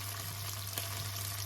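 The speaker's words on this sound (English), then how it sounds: "So it's like a ackee and saltfish stir fry." Ackee and saltfish stir-fry in a pan, producing a faint, continuous sizzling hiss over a low background hum, with no one speaking.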